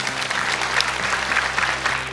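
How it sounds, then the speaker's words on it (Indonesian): An audience at an Islamic sermon gathering gives steady applause for a child named Firza, a full, continuous patter of many hands clapping at moderate loudness over a low hum. "Boleh tepuk tangan untuk Firza"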